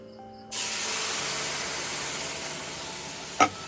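After a quiet moment, a milk mixture hits a hot pan of fried ingredients and bursts into a loud, steady hissing sizzle that carries on evenly, with a brief clatter near the end.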